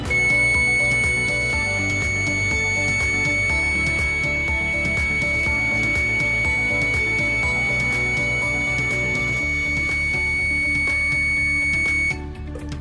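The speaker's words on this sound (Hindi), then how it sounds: "जैसे ही मैंने दोनों वायर्स को एक दूसरे से टच किया तो सेफॉन पावर प्यूरिफायर का ये अलार्म बज उठा।" A Safon power purifier alarm sounds after two wires are touched together and short-circuit, a loud continuous electronic tone with layered harmonics holding for about twelve seconds before cutting off.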